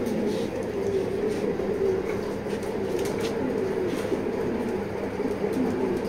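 Breeder pigeon cooing softly and steadily at close range, low rolling coos repeating over a continuous dull background hum.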